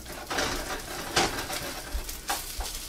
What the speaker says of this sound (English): For the fried rice, you need to keep this stuff moving so it doesn't scorch.